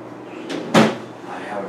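A home kitchen drawer is pulled or shut with a short sliding rumble and a sharp wooden knock, close by in a room with a faint background murmur.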